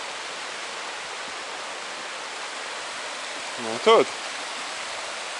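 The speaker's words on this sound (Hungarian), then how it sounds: "Nem, milyen szépen folyik itt a patakocska," A small stream flows outdoors with a steady, even rush of water throughout; a voice briefly speaks partway through.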